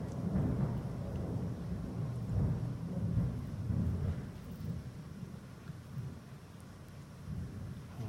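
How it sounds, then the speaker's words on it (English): Thunder during a storm, a deep rolling rumble swelling and fading in long waves over a soft hiss of rain, moderately distant and continuous. "There was that thunder. Yep, that's a big one."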